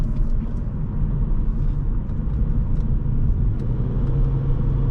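A 2008 Hyundai Sonata GLS V6 driving under light throttle, a steady low engine and road rumble heard from inside the cabin, moderately loud and even throughout with no talking.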